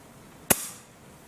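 A single sharp crack from a Pinty P-Force bullpup air rifle firing, loud and abrupt against a quiet background with a short fading tail.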